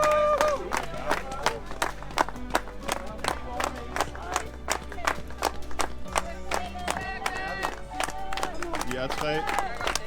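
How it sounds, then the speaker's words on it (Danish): Spectators at the start of a backyard ultra race clap and cheer, sharp, rhythmic claps ringing out steadily over a low background hum, with voices mixed in. "giv dem nu lidt klap"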